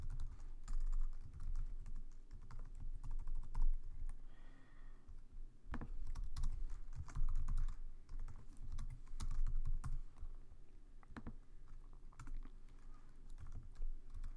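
Keys clatter on a computer keyboard while Java code is being typed, an irregular run of close, quick clicks with short pauses and a few louder keystrokes, no voice over them.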